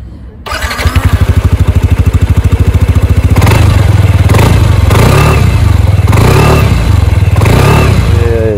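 Yamaha NMAX 125 scooter with a 125 cc engine starts up close by, then settles into a loud, steady pulsing idle with a few throttle blips and revs, no talking.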